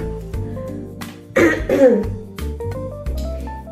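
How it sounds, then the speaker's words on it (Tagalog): A person coughs a couple of times, harsh and close, over soft background music. "Ilang araw pa kaya itong ubo natin"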